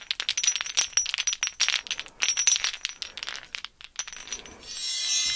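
Homemade wind chime of glass bottles holding coloured water, struck in quick irregular clusters of bright clinking, near and clear with no talk, slowing into a few sparse tinks before a soft shimmering ring at the end.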